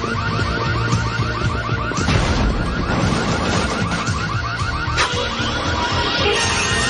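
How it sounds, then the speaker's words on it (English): An electronic alarm rings at a gate in an animated Mega Man series, a loud, rapidly warbling tone repeating continuously over a busy cartoon soundscape with a few crashing hits. "Wasn't supposed to have an alarm on it?"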